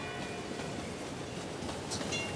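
Trams running along a railway in the city transit game Cities in Motion, a continuous rumbling rail roll with faint rhythmic clatter and a brief high squeal near the end.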